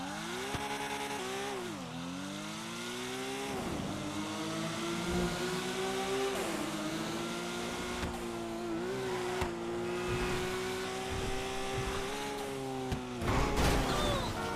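A GT3 SE Special Edition race car in a video game revs its engine hard and steadily, the pitch dipping and climbing through gear changes, loud and continuous with a brief squeal near the end.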